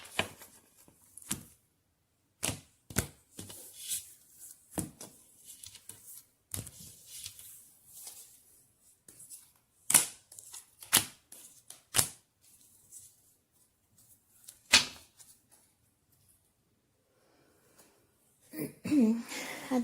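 A deck of tarot cards is shuffled in irregular bursts of sharp riffles and snaps, with quiet gaps between them and a soft, close rustle near the end.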